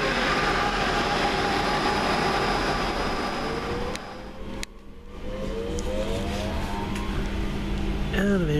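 A train, class 23208, at a station near Birmingham, rumbles and hums steadily up close as a broad, continuous roar. A brief dip in the middle leads to a rising whine and squeal toward the end.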